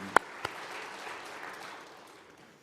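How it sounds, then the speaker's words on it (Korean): A church congregation applauds during a Sunday worship service: a couple of sharp claps ring out, then a soft, faint wash of clapping lingers and slowly fades, with no talking. "우리의 목사 되신 주님께 감사와 영광의 박수 올려드립니다."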